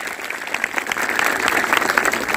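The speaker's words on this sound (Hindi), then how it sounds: "मैं चाहूंगा इन दोनों ही महान हस्तियों के सम्मान में दिल की गहराइयों से एक बार जोरदार ताली हो जाए।" Audience applause at a motivational speech event in India, a steady dense wash of many hands clapping throughout, moderately loud and continuous with no talk over it.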